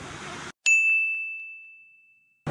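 A clock tower bell in Milan, Italy, strikes once, loud and near, and its bright metallic tone rings on and slowly decays over about two seconds against near silence.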